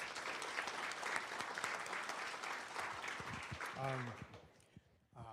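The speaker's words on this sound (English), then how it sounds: "Let's give them another great big round of applause." Steady, full applause fills the room at a county board meeting for state-winning honorees, and a voice briefly speaks over the end of the clapping as it tapers off.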